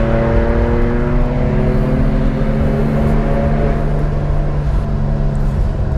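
A 1987 air-cooled Porsche 911 engine hums steadily while driving, a loud, constant drone with layered harmonic tones and rumble, no break across the stretch.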